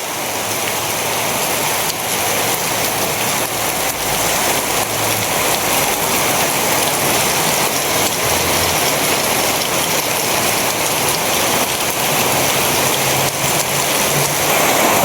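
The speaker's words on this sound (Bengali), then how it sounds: "বৃষ্টি প্রচুর পরিমাণে নামতে" Heavy rain pours down steadily, a dense, continuous hiss of drops on surfaces, loud and close, with no speech.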